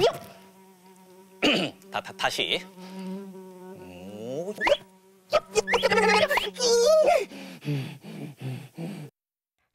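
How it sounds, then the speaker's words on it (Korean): A fly buzzes in loud, wavering bursts that rise and fall, mixed with voices talking in a children's exercise programme. "날아다니는 파리를 잡을 수 있어요?"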